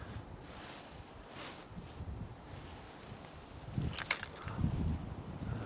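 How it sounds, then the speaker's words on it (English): Wind gusting across a riverbank during fly fishing, a steady broadband rush with louder buffeting bursts near the end, close to the microphone and with no speech. "Just the wind that's bothering me."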